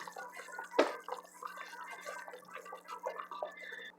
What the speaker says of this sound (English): I just drain the water out.